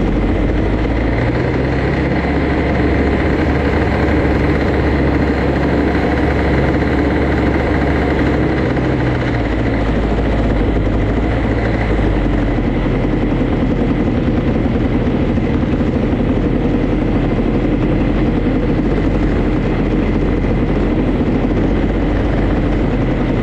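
A scooter engine fitted with an Airsal CPI 70 kit idles steadily and loudly up close, a continuous throbbing drone with no talk over it.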